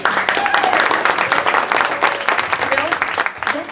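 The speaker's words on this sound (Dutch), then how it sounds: "Dat applaus kan beter" Audience applause for a string orchestra on stage at a Dutch variety show, steady dense clapping with a host's voice and some whistles over it throughout.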